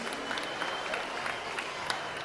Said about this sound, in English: let's have a round of applause for our Class 11